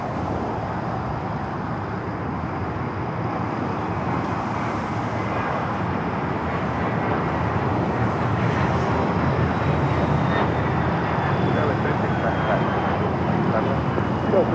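An airliner departs from runway 25 right at Los Angeles International Airport, a broad steady jet roar that holds loud and constant throughout, with faint traffic noise mixed beneath.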